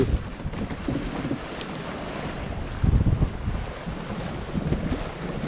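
Steady wind rushes across the microphone aboard a sailboat out on the water, with low gusty buffeting and a brief stronger surge near the middle, continuous and fairly loud throughout.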